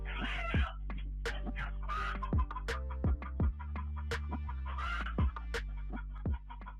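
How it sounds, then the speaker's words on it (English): Hens in a coop set upon by a marten squawk and cluck in frantic bursts, with sharp knocks and scuffling between the calls, close and loud. "A marten bursts into a chicken coop, and it's clear someone's going to have a bad day."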